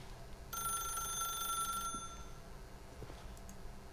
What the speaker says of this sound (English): Phone's getting on my nerves.